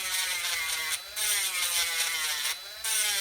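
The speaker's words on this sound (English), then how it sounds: "Make sure you have your sander charged up." Cordless power sander working over a pearl domino set, a steady high-pitched whine and grind that runs loud and continuous, dropping out briefly twice before starting again, with no one speaking.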